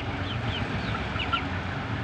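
A hen clucks softly and intermittently in a backyard enclosure where rabbits are kept, with short chirpy calls over a steady low background.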